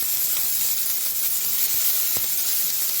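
Hot oil hissing steadily in a frying pan while cooking Egyptian ful, a constant bright sizzle with no talk, close and fairly loud for several seconds.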